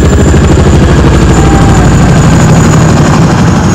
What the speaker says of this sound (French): Les Boeing Rotors atterrissent rapidement sur une zone non protégée pour décharger des pièces d'artillerie.